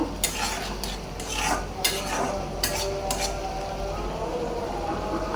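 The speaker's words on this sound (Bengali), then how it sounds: "চিংড়ি মাছটা কষাইতেছি, কষাইয়ে কাঁকরোল দিয়ে দিব" Shrimp being stir-fried in a pan, with repeated scraping strokes of a utensil over a soft, continuous sizzle; close and fairly loud throughout.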